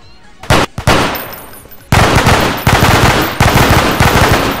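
Bursts of rapid automatic gunfire from a custom-made weapon in a video game, loud and close: two short volleys, then sustained strings of fire, with no talking.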